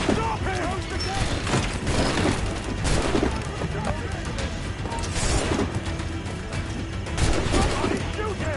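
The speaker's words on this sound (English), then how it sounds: "Careful with the gunfire going on!" Dense bursts of gunfire and booming impacts in a chaotic Assassin's Creed IV battle, with shouting voices mixed throughout.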